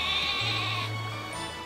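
A Wooloo, the sheep Pokémon from the video game Pokémon Sword, gives a short electronic bleat that stands alone over a steady game background hum, with no talk.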